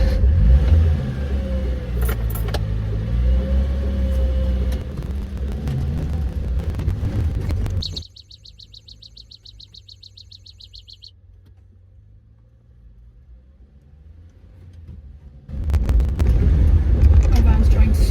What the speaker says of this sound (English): I think I'm gonna move the van into the car park.